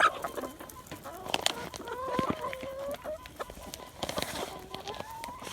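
Hens cluck busily after eating black soldier fly larvae treats, with several close, overlapping calls and chatter over a soft backdrop of scratching and pecking, along with a few brief higher squawks.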